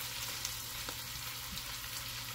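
Onions frying in a pan for a simple snack, a steady soft sizzle with faint crackle running throughout, fairly quiet and unbroken, with no voices.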